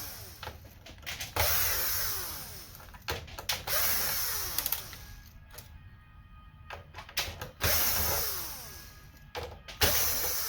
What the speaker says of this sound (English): once I get the 8 million screws out that are in here